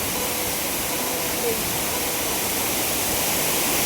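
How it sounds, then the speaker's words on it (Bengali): Pungkhlieng waterfall on the Sohra–Shella road, a loud, steady rush of falling water that fills the whole stretch, heard close up with no break. "এই ফলসটা সুন্দর একদম উপর পর্যন্ত উপর থেকে ওই যে জলটা আসছে ওখানে"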